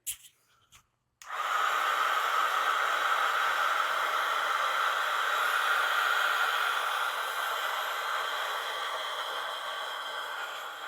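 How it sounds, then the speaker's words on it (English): A small heat tool drying acrylic paint blows a loud, steady, breathy whoosh that starts abruptly after a couple of brief bumps and holds for about ten seconds, close and alone. "I'm going to take my little heat tool here and dry this real quick"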